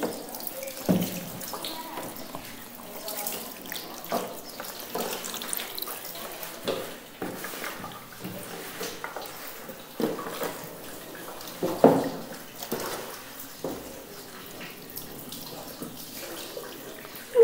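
Water poured over a body during a ritual washing, splashing and trickling in irregular bursts with drips, close and fairly quiet, with little talk.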